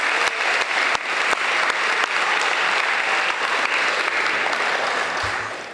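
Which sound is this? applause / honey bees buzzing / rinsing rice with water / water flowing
applause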